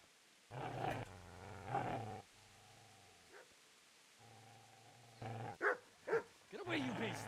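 A dog growls in a video game set in 14th-century Bohemia. Low, rough growls come in several bursts, close and fairly loud, and vocal sounds break in near the end.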